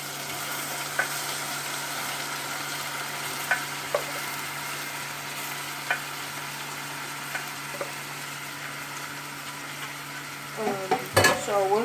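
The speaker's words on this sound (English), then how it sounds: "we're just gonna add our meat, our beef" Beef sizzles steadily in a hot frying pan, a dense continuous hiss with occasional light clicks from stirring, then a cluster of louder scraping and clattering near the end.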